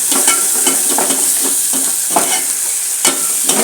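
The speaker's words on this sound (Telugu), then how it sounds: "మసాలా చూడండి ఎంత చక్కగా బాగా మంచిగా ఉడుకుతున్నారు" Masala sizzles and fries steadily in a pan while being stirred for bagara rice, a continuous bright hiss broken by regular scraping strokes of the spoon, close and loud with no talk.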